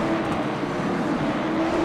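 Stock cars circle the track at a Winter Derby race at Five Flags, giving a steady, loud engine drone with a sustained tone throughout, like a pack rolling past under caution before green flag racing.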